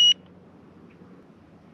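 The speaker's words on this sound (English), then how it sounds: "these bite alarms are awesome tools to have if you're catfishing or carp fishing or any type of bank fishing" A carp fishing bite alarm gives a single short, sharp high beep as it switches on, followed by near silence.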